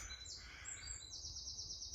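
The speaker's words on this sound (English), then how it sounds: "nice and relaxed and full of noisy birds and bees and flies." Birds chirp outdoors in a quiet natural spot, a couple of faint high calls and a thin sustained trill over soft low background rumble.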